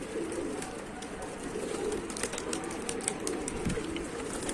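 Domestic pigeons cooing steadily inside a loft, a soft continuous murmur of many birds close by with occasional brief sounds of movement or wings.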